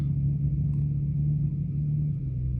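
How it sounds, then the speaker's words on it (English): A first-generation twin-turbo Audi R8 idling or cruising nearby, giving a steady, deep engine rumble that holds evenly throughout with no voices over it. "Oh, do we have a twin turbo R8? Wow, it's a first gen too. Oh wow, you can hear the spool."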